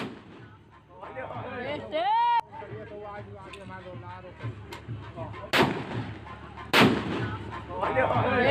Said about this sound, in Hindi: 3 युवकों का एक साथ फायरिंग करते हुए वीडियो वायरल हुआ है।